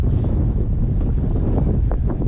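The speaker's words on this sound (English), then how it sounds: "to give everybody a good idea of what kind of breeze we're dealing with here" Strong wind buffeting the microphone on a Stabicraft fishing boat out on the water in high winds, a steady loud rumbling roar throughout with no talking.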